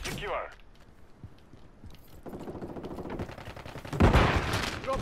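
Automatic weapons chatter in Call of Duty: Modern Warfare III multiplayer, rapid close bursts of gunfire building to a loud volley near the end, with radio voice lines and footsteps mixed in.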